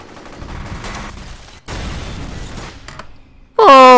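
Turret gunfire in the F.E.A.R. shooter game in slow motion, a dense continuous roar of shots with a brief cut near the middle, ending in a sudden loud burst with harsh ringing tones.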